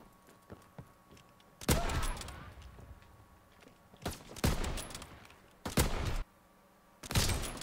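Wall-bang gunfire in the Call of Duty: WW2 video game, several loud bursts of rapid shots separated by quieter game ambience, each burst sharp and close.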